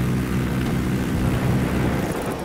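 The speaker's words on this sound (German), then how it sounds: "Da ist ein Flugzeug." An airplane in the video game Ghost Recon Wildlands flies past, a steady loud engine drone filling the whole moment.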